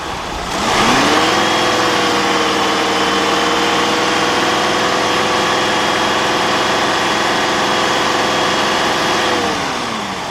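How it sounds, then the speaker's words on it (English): A 1998 Cadillac Seville STS with the 4.6 V8 idles steadily and loudly up close with an overheating fault, its cooling fans whirring on low speed as a constant hum under the engine note, settling after a brief rise at the start. "we had it running for a while. The fans did kick on. That's a low speed."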